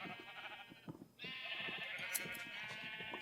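Minecraft sheep bleat in a steady, wavering stream of loud, close calls that overlap almost continuously in the video game.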